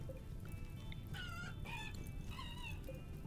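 Chickens in the colony sim game Rimworld give several short, pitched clucks and squawks at moderate level over a steady background hiss, with no talking.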